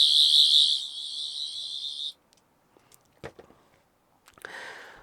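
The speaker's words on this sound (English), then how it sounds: "this is the other hidden sound effect, which is the torch feature" A Doctor Who 12th Doctor sonic screwdriver replica plays its torch-feature effect, a bright warbling electronic tone for about two seconds, followed by handling clicks and a short hissing burst near the end.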